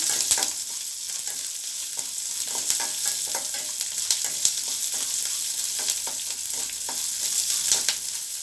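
Onions sautéing in a pan for coriander chutney, a continuous bright sizzle with scattered light scrapes and ticks from stirring, steady and close, without speech.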